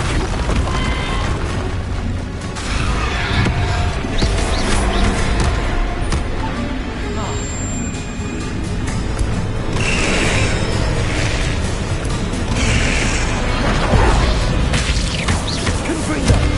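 Spell blasts in Hogwarts Legacy, including Confringo and Bombarda, land as loud booming bursts with mechanical clatter over a steady wash of game noise, swelling several times across the passage.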